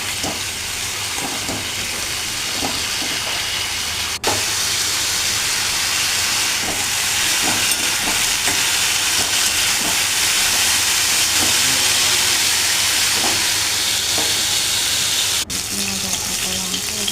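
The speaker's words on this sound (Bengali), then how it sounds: "এদিকে মাছ ভাজা প্রায় হয়ে গেছে।" Pieces of rohu fish fry in a pan with a loud, unbroken sizzling hiss, punctuated by scattered small pops and crackles from the hot oil.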